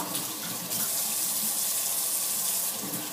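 Tap water runs steadily into a sink for rinsing a face during a rose face care routine, a close, continuous rushing splash with no talking.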